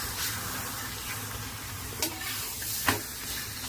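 Steady sizzle of a methi and green chickpea paratha frying in butter on a hot griddle, a continuous close crackle with a couple of brief louder spits.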